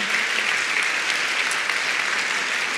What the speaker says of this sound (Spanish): Un aplauso fuerte también para esa gente que viene.